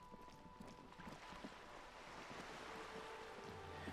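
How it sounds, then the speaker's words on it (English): Loud rushing water in the video game Disco Elysium, a continuous wash of surf-like noise with a windy hiss that swells slightly over a few seconds, heard alone without any talking. "Holy shit, that water is loud, dude."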